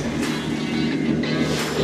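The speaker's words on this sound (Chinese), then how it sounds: "这个马达的声音就更大了，" A driverless, remotely controlled unmanned combat boat runs its motor on open water with a continuous, close, loud droning hum throughout.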